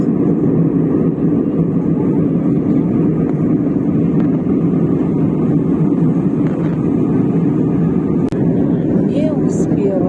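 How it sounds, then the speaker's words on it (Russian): An airplane passes low overhead, its broad, steady roar filling the whole stretch at high volume. "Самолет пролетел, вот только след остался."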